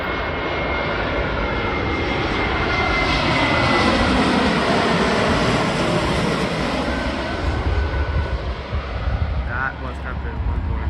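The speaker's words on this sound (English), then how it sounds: "Spirit A320 Neo coming in from LAX, Los Angeles." A Spirit Airbus A320neo arriving from Los Angeles lands at Newark airport, its engines roaring loud and steady for the whole stretch, with a broad rushing swell that fades slightly near the end; a voice talks over it.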